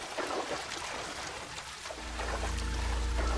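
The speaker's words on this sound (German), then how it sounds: "Okay, hier ist das Abflussrohr gebrochen," Water flows from a broken drain pipe in a basement in the L.A. Noire video game, a soft steady trickle and splash joined partway through by a low, loud rumbling gush.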